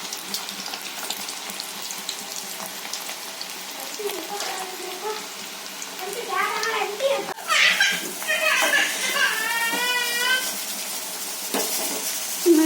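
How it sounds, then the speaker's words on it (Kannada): Potato snacks frying in hot oil give a steady crackling sizzle, with occasional stirring and pan clatter, while a person talks over it throughout. "ಗೋಲ್ಡನ್ ಬ್ರೌನ್ ಬರುತ್ತೆ ಫ್ರೈ ಮಾಡ್ಕೋಬೇಕಷ್ಟೆ"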